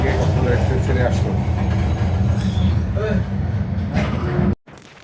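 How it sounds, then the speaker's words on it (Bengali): The Cox's Bazar Express passenger train under way, a loud continuous rumble and rattle of the carriages heard from on board, with faint voices and noise in the background before it suddenly cuts off near the end. "একদম রাইট টাইম 12:30টায় কক্সবাজার থেকে কক্সবাজার এক্সপ্রেস ছেড়ে আসলো।"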